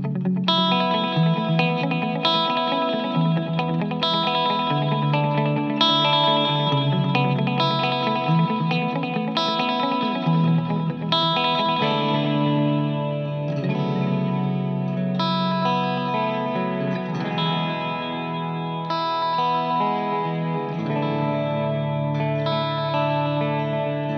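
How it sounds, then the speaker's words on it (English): Electric guitar played through BluGuitar speaker cabinets, distorted chords and melodic lines with chorus and echo effects, loud and continuous throughout without talk. "If you just want to hear all the cabs and combinations back to back, here you go"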